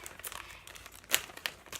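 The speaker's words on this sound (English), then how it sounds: "I might be able to rip the bag." A Nordstrom paper shopping bag torn open by hand, heard as soft crinkling and scattered rustles that end in one sharp rip, with a second, smaller tear just after.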